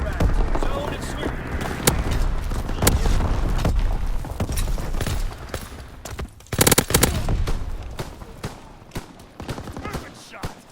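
Mortar rounds firing in Call of Duty WWII, heard as dense booming blasts over a continuous rumble of gunfire and battle noise, with a heavy cluster of louder impacts partway through and game voices calling out over the chaos.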